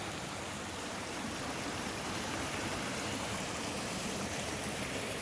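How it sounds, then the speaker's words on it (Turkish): Small waterfalls and a stream in a rocky canyon make a steady, broad rushing of water, continuous and fairly even throughout, with no voices heard. "Şurada irili ufaklı şelaleler var."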